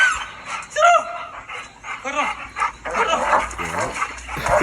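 A dog attacks a person, with close, loud barks and yips mixed with whimpering and a busy, noisy struggle, while voices are heard in the background.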